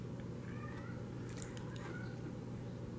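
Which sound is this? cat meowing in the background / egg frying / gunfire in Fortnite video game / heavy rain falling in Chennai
cat meowing in the background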